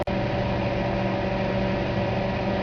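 A microwave oven runs steadily with a constant low hum and a bright tonal drone, close and alone.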